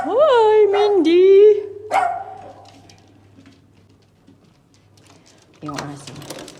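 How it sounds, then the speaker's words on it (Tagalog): Inside an apartment in Canada, a dog gives a string of high yelping barks and whines close by, then goes quiet before another short burst. A person speaks nearby. "Yung aso."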